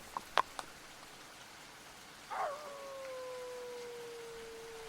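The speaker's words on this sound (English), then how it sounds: "Do you hear them howling?" A few faint clicks, then a lone dog howl rises and trails off into a long, thin, fading wail in a quiet night setting, heard at a distance.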